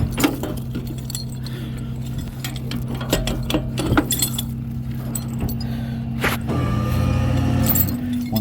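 Metal recovery hooks clink and jangle while being attached to the hook points of a wrecked sweeper truck loaded onto a Peterbilt rollback flatbed tow truck. Scattered close metallic clinks sound over a steady engine hum that grows louder near the end.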